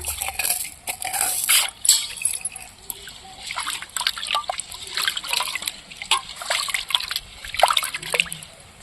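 Lentils are washed by hand in a vessel of water, with irregular splashes, sloshing and trickles coming close and in bursts throughout, with no talk over them.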